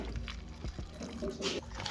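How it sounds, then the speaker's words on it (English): Water poured into a cooking mixture while making Nigerian fufu (akpu), giving a soft, close liquid splash and trickle with a brief brighter gush partway through, with faint background noise. "Then I'll go ahead to add my water."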